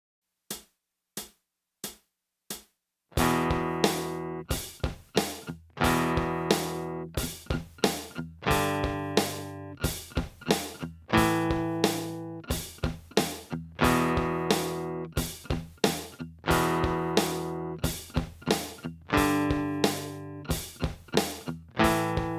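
Palm-muted strumming on an acoustic guitar, hand resting near the bridge for a heavy rock feel at 90 BPM: a few sparse muted strikes, then steady, punchy, percussive chord chops, loud and close, with no voices.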